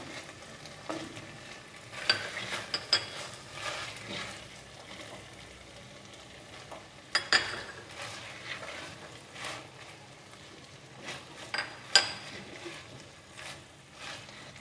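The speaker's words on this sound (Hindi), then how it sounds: "बस इसको 1 मिनट सिर्फ हमने भूनना है और उतार लेना है" Tomatoes, capsicum and onion cut into squares are stir-fried with hot chicken in a pan, giving a steady sizzle broken by scraping stirs and a few louder clanks of the spatula, close and with no talking.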